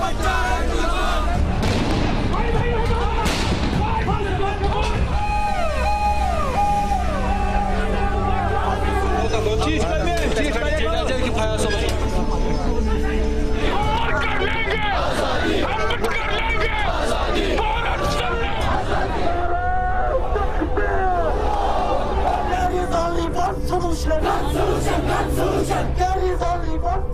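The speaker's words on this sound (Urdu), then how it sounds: "یہ نعرے تو پوری وادی میں گونج رہے ہیں" Large crowd chanting pro-Kashmir freedom slogans, loud massed voices in rhythmic call-and-response, continuous and dense with shouting layered over babble.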